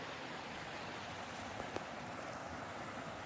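Steady broadband rush of water flowing near a desert trail campsite on the Arizona Trail, a continuous hiss with a faint tick or two, no talking.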